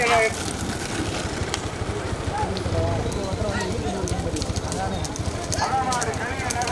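Bulls pulling carts in a big bullock cart race, with fast continuous clip-clop of hooves and rattling under a busy crowd and commentary that keep going throughout.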